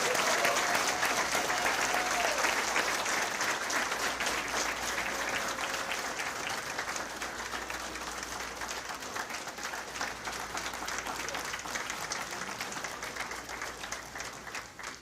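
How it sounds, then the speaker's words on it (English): Sustained audience applause for fire department recruits at a graduation ceremony, a dense steady wash of many hands clapping that holds strong for about fifteen seconds and eases slightly toward the end. "Let's give them all a big round of applause one more time."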